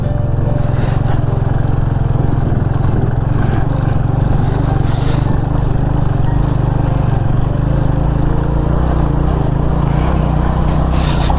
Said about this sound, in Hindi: हमारी एडवेंचर बाइक तो है नहीं, ये स्ट्रीट बाइक है एक तरह से